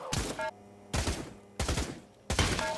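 Gunfire in a virtual reality shooting game played on a Meta Quest 2 comes in four loud, rapid bursts separated by brief pauses, each burst a quick fusillade of shots.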